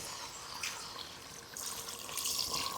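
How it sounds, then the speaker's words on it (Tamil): Water poured into a pan of spicy quail gravy as it cooks, a steady tap-like stream of splashing liquid that swells louder toward the end. "இப்போ என்ன பண்ணலான்னா தண்ணி ஊற்றிடலாம், ஓகேங்களா? ஊற்றுறேன்."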